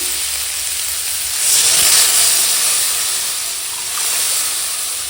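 Water hits a hot pan of fried spice paste, bursting into a loud steamy hiss that peaks then eases, with a second smaller surge a couple of seconds later, close and alone without talking.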